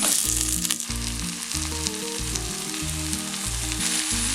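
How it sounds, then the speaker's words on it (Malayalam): Chicken pieces frying in a pan with sautéed shallots for a roasted Kerala chicken curry, a loud, steady sizzle close by under a rhythmic mechanical hum, with no voices. "ഇതിലേക്ക് ചിക്കൻ്റെ പീസസ് ഇട്ട് കൊടുക്കാം."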